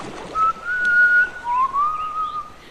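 A person whistles inside a church, clear and close, a few sustained tones rising and sliding between notes in a short melodic phrase with brief pauses.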